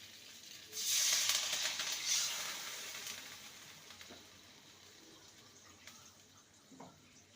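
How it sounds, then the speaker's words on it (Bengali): Water, the rinse from a spice plate, poured into a pot of spiced taro, a steady soft splashing stream that fades into a faint hiss of simmering. "এবার দিয়ে দেবো পরিমাণ মতো জল এটা মশলা ধোয়া জল"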